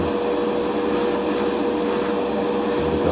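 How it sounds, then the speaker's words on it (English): An airbrush sprays paint on a custom Corgi Mini model car with a constant close hiss that keeps cutting out and surging back in an uneven sputter. "the airbrush isn't spraying as good as it should be, so it's like coughing and farting as it goes"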